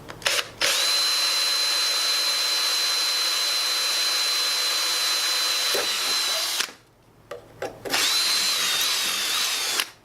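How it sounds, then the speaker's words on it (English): A power drill whines steadily and close while boring a hole through the rim of a homemade bird feeder, then stops briefly before spinning up again for a second shorter burst. "So let's go ahead and drill this hole"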